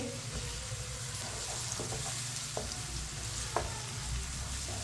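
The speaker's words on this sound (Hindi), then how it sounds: "लहसुन को भी मैंने चम्मच चलाते हुए 2 मिनट के लिए पका लिया।" Crushed garlic fries and sizzles in a pan over onions browned for a few minutes, with a spoon stirring it steadily and occasional scraping clicks, close and continuous, while Aloo sabzi is being cooked.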